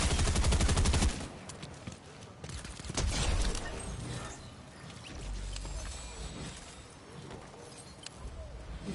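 Gunfire rattles in Fortnite Chapter 4 Season 4, a loud burst at the start followed by scattered, fainter shots and bangs at varying distances across the game's ambient sound.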